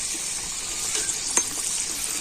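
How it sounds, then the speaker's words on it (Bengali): Rice flour pitha frying in oil over a low flame as they are stirred: a soft continuous sizzle with a small splash or clatter midway, fairly faint and without talk. "দেবো তেলের মধ্যে দিয়ে আর পিঠেগুলোকে এইভাবে একটু নাড়িয়ে চাড়িয়ে দেবো"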